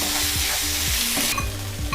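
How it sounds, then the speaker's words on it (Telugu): Ginger paste frying with onions and garlic paste in a pan, a loud close hiss with a rhythmic scrape of a spoon stirring roughly every half second, with no speech. "1/2 టీ స్పూన్ అల్లం పేస్టు. అల్లం పేస్ట్ పచ్చి వాసన పోయే వరకు వేయించుకుందామండి"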